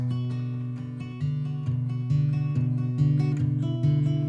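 A steady fingerpicked acoustic guitar pattern in open G tuning, plucked notes rolling in an even rhythm over sustained low bass notes, clear and close with no talking.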